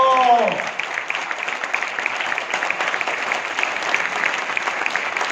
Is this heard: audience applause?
yes